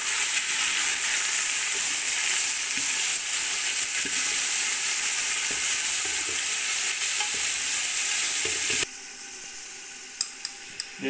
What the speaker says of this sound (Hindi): अब इसमें हम गोश्त ऐड करेंगे।